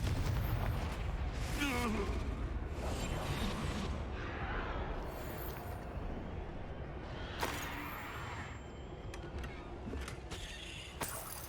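Confringo fire spell explosion in Hogwarts Legacy, broad booming blasts and bursts over a dense rumbling game soundscape, with a sharp crack near the middle and continuous noisy combat texture.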